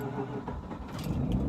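A Mazda RX-8 rotary engine warms up after starting, a low rumbling idle that swells and settles over a second and a half, close and steady with some rattling.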